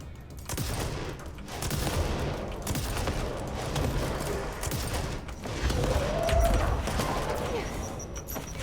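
Gunfire from the player's favorite weapon in the video game Control, a sustained rattle of rapid shots that runs dense and loud through most of the stretch, with clattering impacts mixed in and no voices.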